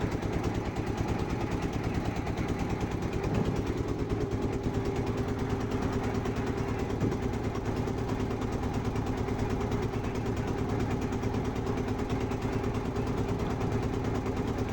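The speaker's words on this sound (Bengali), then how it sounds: "মাস্টার ট্রলার চালাচ্ছে বসে আছে হ্যান্ডেল ধরে" A trawler boat engine runs on the Buriganga River with a steady, unbroken mechanical drone throughout, close and continuous with no talk.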